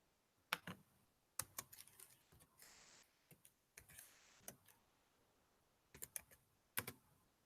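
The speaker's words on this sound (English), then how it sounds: "Try typing Flat Earth after Jamie's Journey." Computer keyboard typing in a quiet room, with irregular bursts of sharp key clicks separated by short pauses, close and fairly crisp.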